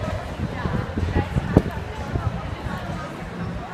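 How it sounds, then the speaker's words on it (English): Busy street bustle in Palma, Spain: a crowd's murmur of voices and footsteps close around, with one brief sharp knock partway through. "Really nice to hear some hustle and bustle."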